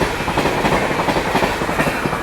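Bihar Sampark Kranti express train from New Delhi rushing past at close range, a loud continuous rumble with rhythmic clickety-clack of wheels over rail joints.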